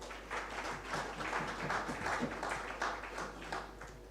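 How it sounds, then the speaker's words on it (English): Audience applause fills a conference hall at an insurance brokers' event in Uganda, a steady, moderately distant wash of many hands clapping for a few seconds. "I think it deserves a big clap."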